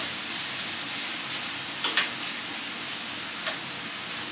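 Pork chops for Hawaiian pork chops sizzle in a hot pan, a steady close hiss broken by a few short clanks and scrapes of a utensil stirring them.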